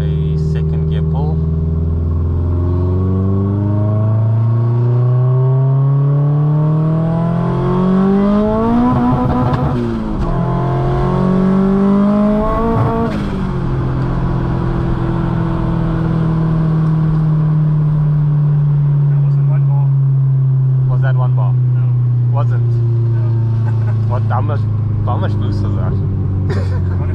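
Turbocharged car with variable valve timing, water-methanol injection and a MAC four-port boost controller doing a second gear pull, the engine note rising loudly, dipping through a shift, then holding a steady strong drone, close and continuous.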